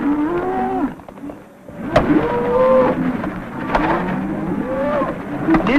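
Several cattle moo repeatedly, loud and close, their long lowing calls overlapping with a brief dip in between.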